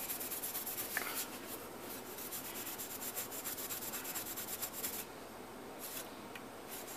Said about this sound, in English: I'm just going to soak my little steel wool pad. And I'm just going to lightly brush the blades,